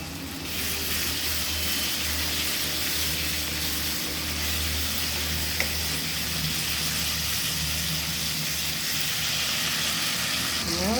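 A paste of ground ginger and fennel seed fries in hot oil for lentil dal, making a steady, dense sizzle that runs continuously at an even level, with a low hum underneath.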